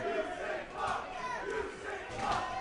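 An arena wrestling crowd roars and shouts in a steady, dense wall of voices, swelling at moments, heard from within the audience.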